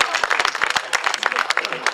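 Audience applause at an event, a short burst of dense clapping heard close with voices mixed in.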